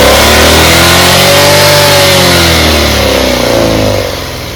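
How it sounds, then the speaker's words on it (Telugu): A Maruti Suzuki Celerio ZXi engine being revved with the accelerator, a loud, close, sustained rising and falling drone that holds steady for about four seconds and then eases off, without any talking. "ఇప్పుడైతే నేను గేజ్ పుల్ అందిస్తా, యాక్సిలరేటర్ ఇప్పిస్తా, మీరు చూసుకోవచ్చు."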